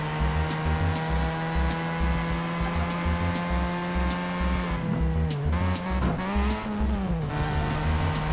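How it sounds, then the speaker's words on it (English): Mazda RX-7 FC3S, a 1990s sports car, racing in the Need for Speed Shift 2 Unleashed game on PS3, its engine holding a loud steady drone with a pitch dip and recovery midway, plus brief tire squeal, continuous with no talk. "Martin, this is the RX-7, the FC3S, 90s Mazda."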